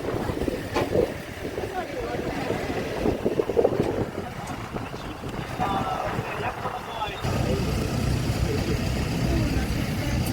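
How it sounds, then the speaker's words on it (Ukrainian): Breeze rushes and buffets against the microphone from a moving vehicle on the way to a fairground, a steady windy roar with engine rumble and faint speech underneath. "Да, Вітерець так класно подуває."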